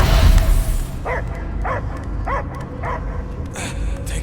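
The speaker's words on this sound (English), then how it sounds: "I hear only barking." Dog barking in the Guardians of the Galaxy video game: five short, evenly spaced barks ring out at moderate distance over a steady low game rumble, with faint voice-like sounds in the background.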